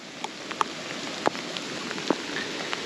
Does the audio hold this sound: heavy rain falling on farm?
yes